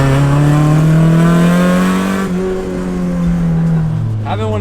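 A JDM Toyota AE86 engine revving loudly and close, a sustained raspy drone that climbs in pitch, eases off and drops back as the throttle is released.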